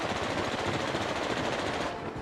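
Aircraft machine guns fire in World of Warplanes as a continuous dense rattle, steady and fairly loud for the whole stretch, with no talk.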